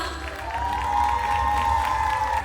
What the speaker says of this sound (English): Please give a huge round of applause for Anvi.